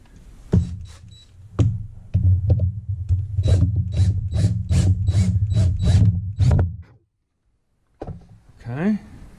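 A lathe chuck is tightened down in a workshop with a run of rapid, rhythmic rasping clicks from a ratcheting motion, quite close and loud, then a short silence and a brief later scrape.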